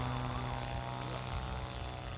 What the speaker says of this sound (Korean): 저기 이제 엔진에 스로틀을 끄고 내려오면서 오토 로테이션 하는 거야